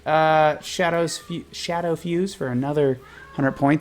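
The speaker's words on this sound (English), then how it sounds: "I don't know what this cat is just meowing about." A cat meows repeatedly in rising, wavering cries close by, interleaved with a person talking during a tabletop role-playing session.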